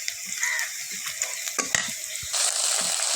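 Onions sizzle in a hot pan for taki fish curry, a bright steady frying hiss with scattered stirring clatter and a louder burst of sizzling near the end.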